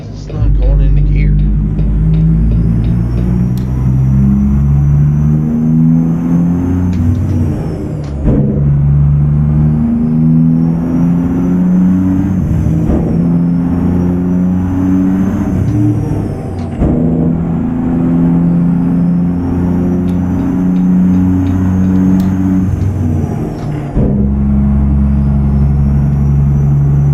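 A truck engine in American Truck Simulator revs up and drops back through repeated gear changes, a loud, steady low drone with stepped rises in pitch, while a voice talks over it now and then.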